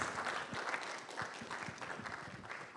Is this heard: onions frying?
no